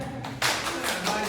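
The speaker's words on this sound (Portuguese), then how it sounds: "Uma salva de palmas para mim?" An audience at a talk gives a short burst of clapping, a few sharp claps that rise quickly and then continue as steady applause that is moderately close.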